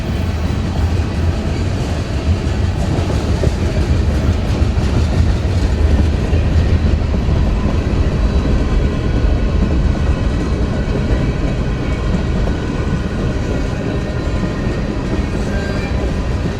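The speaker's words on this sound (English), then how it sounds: "Train slowing down as it goes through downtown Madisonville." CSX freight train M513 rolls slowly through downtown Madisonville, a steady close rumble of wheels with clickety-clack on the rails, holding at an even loud level the whole way with no voices.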